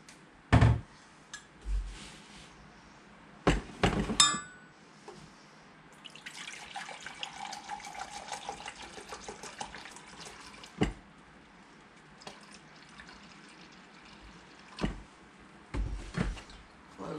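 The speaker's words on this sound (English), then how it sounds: "And then I'm going to add a cup and a half of cider vinegar." Cider vinegar is poured into a pot for sweet garden relish, a quiet steady liquid trickle lasting several seconds, framed by sharp knocks of containers and utensils nearby.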